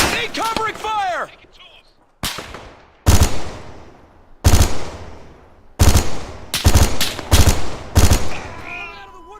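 Machine gun fire in the military shooter ArmA 3: several loud, close bursts separated by short pauses, each ringing out with a reverberant tail, with a brief voice heard at the start.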